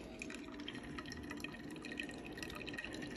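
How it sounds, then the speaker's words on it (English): An old drip coffee maker brewing, giving a faint, steady trickle and patter of liquid dripping into the pot, with no voices. "It's a drip coffee maker."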